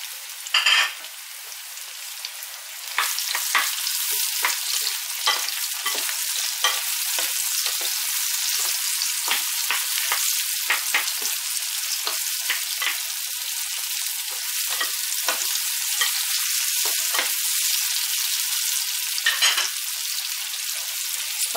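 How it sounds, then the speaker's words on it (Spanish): Chopped mushrooms and fried onion cook in oil in a pan with a continuous close sizzle. Sharp crackles and pops keep breaking through it, and it gets louder after the first few seconds. "Tenemos frita la cebolla, así que le añadimos los champiñones troceados."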